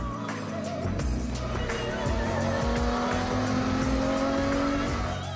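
A Lamborghini Gallardo V10, a compact sports car, drives with a loud, sustained engine note that climbs steadily in pitch under acceleration, with a brief tire squeal heard near it the whole time.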